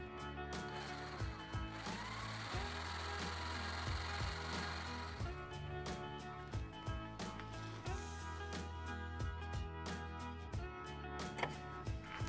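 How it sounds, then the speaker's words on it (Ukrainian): Woodworking on table legs for a wine and snack serving table, a continuous loud power-tool drone of sawing, planing and sanding with regular knocks and thumps throughout, no talk. "Роблю ніжки, пиляю,"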